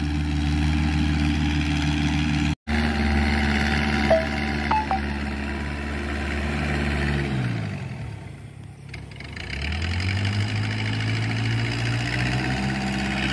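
A light tractor tiller engine running fast while tilling soil, a steady mid-pitched drone that dips in speed briefly then revs back up, with a sharp click early on and no talk.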